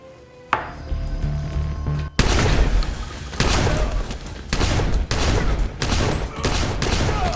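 Film gunfire from 12-gauge armor-piercing steel slug shotguns: a sharp shot, then a run of heavy, booming blasts at a steady pace, loud and close, with no talk.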